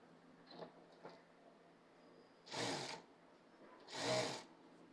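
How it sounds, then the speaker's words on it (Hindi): A sewing machine stitches a Farsi salwar belt in two short bursts of quick whirring, close and fairly quiet, with a few soft clicks of handling between them. "यहाँ पर पूरे राउंड में सिलाई लगा देंगे"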